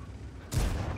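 A tank's cannon fires in a video game: one heavy, booming shot hits halfway through, followed by a rumbling tail over quiet game background.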